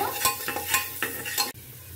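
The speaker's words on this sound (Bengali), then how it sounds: "দিয়ে জাস্ট একটু নাড়াচাড়া করে নেব।" Whole garlic cloves frying in oil with turmeric, stirred with a spatula in rhythmic scraping strokes over a steady close sizzle, about four passes before the stirring stops and only the soft frying hiss remains.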